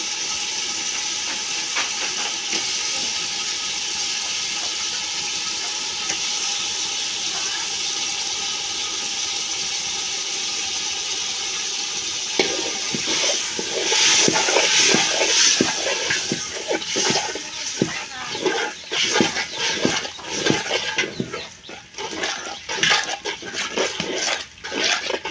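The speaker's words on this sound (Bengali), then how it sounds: "এখন পিস পিস করে কেটে রাখা মাংসগুলো দিয়ে দেওয়া হবে।" Cut pieces of meat dropped into hot spiced oil for haleem, giving a steady loud sizzling hiss throughout, with utensil clatter and stirring noises breaking in during the second half.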